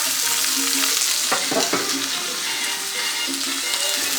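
Steak and onions fry in a pan with a steady, close sizzle and crackle throughout, broken by a few brief scraping stirs.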